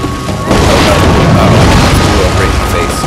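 Loud booming blasts from bombs exploding in the action video game Darksiders 2, a dense, continuous roar of detonations filling the whole moment, with a voice talking over it.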